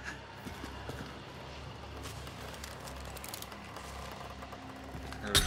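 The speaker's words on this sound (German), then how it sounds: "da war ein Pferd gerade in der Entfernung" Faint, muffled horse hoofbeats clip-clop at a walking pace in the distance over a soft ambient background in the video game Hunt: Showdown, with a brief louder rustle at the very end.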